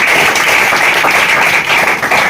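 Students in a classroom clap together, a dense, loud patter of many hands sustained evenly across the whole stretch without speech.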